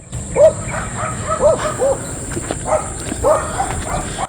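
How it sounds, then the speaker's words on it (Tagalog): Several dogs bark repeatedly in short bursts, some yips mixed in, fairly close over a constant high-pitched hum. "ingay na naman ang mga aso ko kasi may kukuha po ng baboy"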